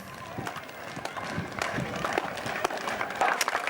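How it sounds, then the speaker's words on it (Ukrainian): A crowd of local residents applauds Ukrainian soldiers outdoors, with steady, dense clapping running through the whole stretch and a few sharper claps standing out. "місцеві жителі влаштували силовикам овацію"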